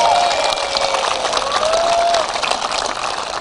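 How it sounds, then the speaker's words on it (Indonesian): An audience at a prison event at Lapas Cipinang, Indonesia, claps and cheers in a loud, dense burst that eases slightly midway, with faint tonal sounds mixed in. "tepuk tangan untuk mereka semua yang menyaksikan kita"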